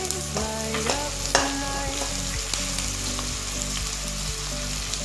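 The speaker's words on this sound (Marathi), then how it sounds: "हा कांदा आता आपल्याला पूर्ण असा लाल नाही करून घ्यायचा, फक्त पारदर्शक बनेल इथपर्यंत तळून घ्यायचा आहे." Chopped onion frying in a pan until just translucent, a constant close sizzle with scattered utensil clinks and scrapes of stirring.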